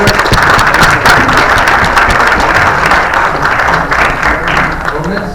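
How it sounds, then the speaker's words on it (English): Steady, loud applause from a conference audience at a surfaces, materials and vacuum congress, a dense crackle of many hands clapping that holds for several seconds and fades slightly at the end. "An applause for Herbert."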